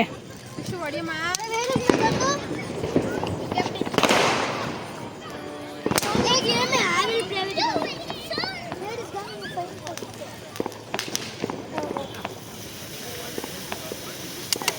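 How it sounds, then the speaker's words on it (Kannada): Small garlic firecrackers burst in sharp pops scattered through the clip during Deepavali, with voices chattering and calling out underneath. "ಸ್ಮಾಲ್ ಸೈಜ್ದು ಬೆಳ್ಳುಳ್ಳಿ ಪಟಾಕಿ ಬರುತ್ತಲ್ಲ ಅದನ್ನೇ ಒಂದು ಫುಲ್ ಬಾಕ್ಸ್ನ ಖಾಲಿ ಮಾಡಿದ್ದಾನೆ"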